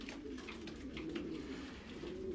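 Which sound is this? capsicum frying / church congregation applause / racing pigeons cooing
racing pigeons cooing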